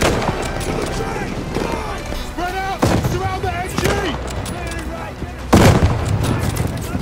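Rapid gunfire crackles through a Call of Duty: Vanguard combat scene, with bursts and loud booms mixed with shouted in-game voices and chatter.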